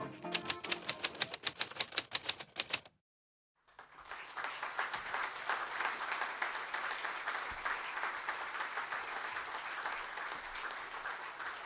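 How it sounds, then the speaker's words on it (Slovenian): Audience applause at a formal municipal ceremony for an award recipient receiving a plaque; a steady wash of clapping builds after a short pause and continues evenly, following an earlier burst of rhythmic, sharp clapping. "Aplavz, ki je namenjen Marku Sušniku, prejemniku plakete Jakoba Aljaža."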